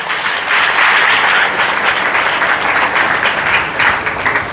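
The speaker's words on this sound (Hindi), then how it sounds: "जोरदार ताली बजा के।" Loud, dense applause from a large congregation at a Hindi church sermon, sustained and even for several seconds with no voices on top.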